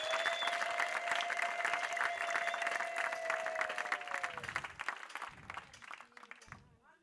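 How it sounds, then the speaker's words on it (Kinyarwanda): A congregation applauds in church, with dense sustained clapping that thins out toward the end and a sustained tone and some voices in the background. "Twakomera Imana amashyi, aya mashyi akumvikana mu ijuru"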